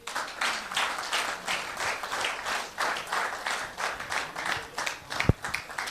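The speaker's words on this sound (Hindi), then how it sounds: "इन खोजियों के लिए तालियां होनी चाहिए।" An audience applauds in a training seminar hall, with steady, dense clapping that carries on loudly through the whole stretch and a single sharper tap near the end.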